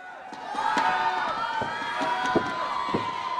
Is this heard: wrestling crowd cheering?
yes